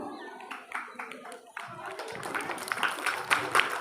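Children clap and applaud together at a Hindi poem recitation competition, starting as scattered claps and swelling into steady, dense applause, with voices mixed in underneath.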